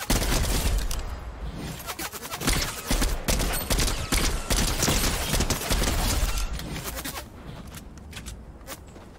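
Rapid gunfire from henchmen in Fortnite, a dense stream of overlapping shots and impacts that stays loud for several seconds before thinning toward the end, with no talking.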